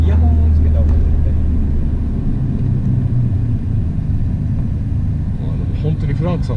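A Nissan R32 GT-R engine while driving, a low steady rumble that fills the cabin throughout, louder at the start, with people talking over it.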